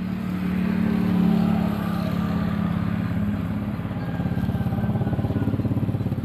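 A Honda Revo Absolute motorcycle engine fires up and settles into a steady, close, pulsing idle during a starter-circuit test in a repair shop.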